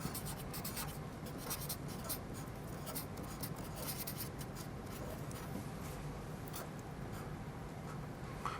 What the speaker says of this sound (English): I write my name on my art in case I want to give it to someone